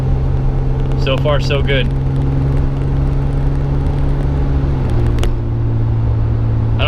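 A 2WD Toyota T100 pickup truck pulls out of a driveway with a steady low engine hum close by, shifting pitch about two-thirds through, while someone speaks briefly.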